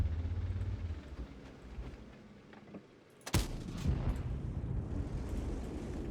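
A tank cannon in World of Tanks fires an armor-piercing round: one sharp, loud blast about midway, followed by a rumbling tail over steady low engine and battlefield noise.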